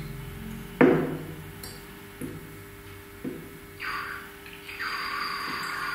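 A glass vessel is dipped into warm water and then cold water during a thermal expansion demonstration, giving a sharp knock followed by a few lighter clinks and soft splashing, close by with no talking.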